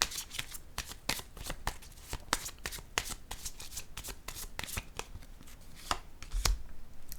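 Tarot cards riffled, flicked and set down in a quick run of crisp slaps and snaps over about seven seconds, close and clear with no talking.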